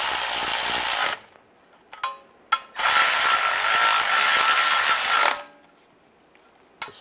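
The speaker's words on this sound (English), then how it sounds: "Get these bolts started. And tighten these down." A ratchet tightens bolts on a plate of a 2007-2013 Chevy Silverado in two rapid, close clicking runs of a few seconds each, separated by brief knocks and quiet gaps.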